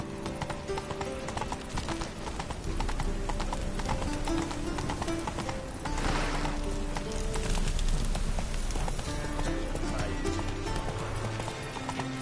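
Hooves of a galloping horse in the video game The Witcher 3 pound in a rapid, steady clip-clop rhythm, close and continuous over a game soundtrack, with no talking.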